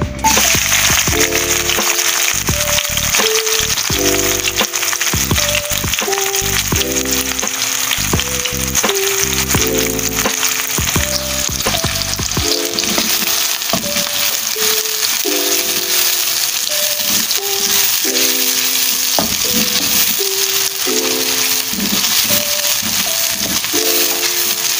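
Onions sizzle steadily in hot oil for a black chana masala, a continuous loud frying hiss running throughout with a low tonal hum and intermittent knocks beneath it.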